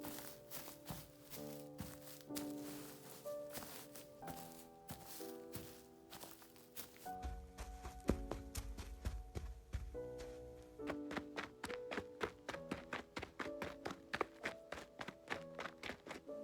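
Foley footsteps on a purpose-built recording surface in a small studio space, paced to match actors on screen: a steady run of close, distinct heel-and-toe thuds and taps, quickening toward the end, with no talk.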